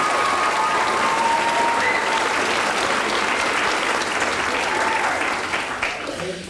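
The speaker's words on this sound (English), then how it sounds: "How about a round of applause for you guys?" Audience applause at a Kids Voting certificate presentation for Port Huron and Marysville school districts: dense, steady clapping from a sizeable crowd lasting several seconds before thinning out at the end.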